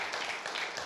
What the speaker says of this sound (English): A big round of applause for what a sport she is.